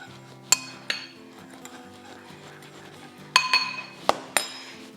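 Spices, salt, garlic, pepper and sugar being stirred together in a bowl for homemade mortadella, giving a few sharp clinks of utensil against the bowl and a softer scrape in between, close and alone.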